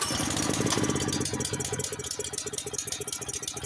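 A Honda HS828 snowblower engine runs nearby at a steady, rough idle with a fast, even chugging pulse and a light rattle. No one speaks over it.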